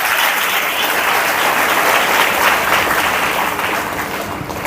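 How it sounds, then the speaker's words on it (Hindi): A church congregation claps together during a Hindi Christian sermon, a dense, steady roar of many hands that stays loud throughout and eases slightly at the end. "ताली बजा के"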